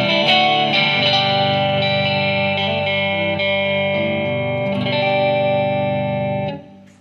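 Fender Vintera 70s Telecaster Custom electric guitar on its humbucker pickup, played clean with light reverb: sustained ringing chords and single notes, loud and close, fading at the end.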